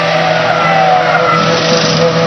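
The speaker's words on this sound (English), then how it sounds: "Here the air guns, tyres going on." Formula 1 Williams car at a 2002 Malaysian Grand Prix pit stop: a loud, steady, continuous roar of engine and pit-lane noise fills the whole stretch, with no distinct air-gun bursts standing out.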